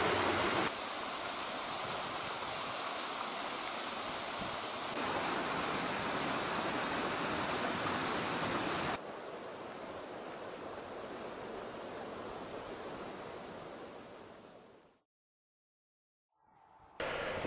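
Steady, loud roar of a waterfall cascade on Meriküla stream (Kõrtsialuse cascade) in Ida-Virumaa, Estonia, a dense broadband rush of falling water that shifts slightly in level before cutting to near silence at the end.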